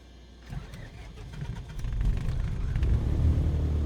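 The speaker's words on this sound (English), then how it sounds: "We're going to start her up." A Cessna 170 taildragger's piston engine starting up in Microsoft Flight Simulator 2020, cranking briefly and then catching into a steady, loud, rumbling run that builds over a few seconds.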